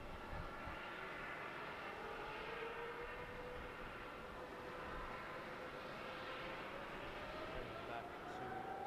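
Qatar Airways airliner bound for Doha taking off from runway 34 at Melbourne Airport, a steady broad jet roar with a slowly rising engine whine, heard from a distance.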